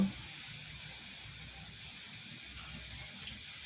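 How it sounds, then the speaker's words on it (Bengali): Whole garam masala sizzling in hot oil as it is tempered, a steady close hiss and crackle that holds evenly throughout with no talking. "এই দেখো গোটা গরম মশলা ফোড়নে দিচ্ছি"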